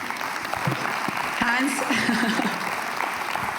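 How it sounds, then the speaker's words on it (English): A conference audience claps for a guest while voices speak over the applause, which stays moderate and continuous in a large room. "A big round of applause"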